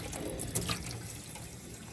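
Tap water runs steadily over cilantro and culantro being rinsed of sand in a kitchen sink, a continuous close splashing hiss with a brief louder gush partway through.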